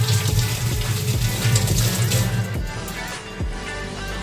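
Tap water runs steadily over an eggplant being washed at a kitchen sink, a fairly loud continuous splash with slight changes in flow as the vegetable is turned under the stream.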